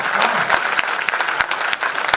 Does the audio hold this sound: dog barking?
no